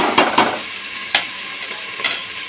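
Onions fry in a pan until brown for a methi mutton curry, with a soft steady sizzle broken by a few sharp scrapes of a spoon stirring them, close and alone.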